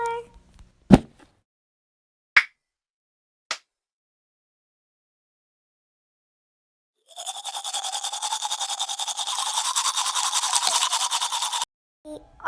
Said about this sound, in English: Come on, Meadow, let's brush our teeth